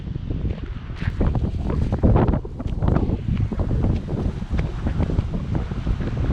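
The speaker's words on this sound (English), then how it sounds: "Man, it's super windy today, bro." Strong gusting wind buffets the microphone outdoors, a loud continuous rumble with irregular surges and no voices.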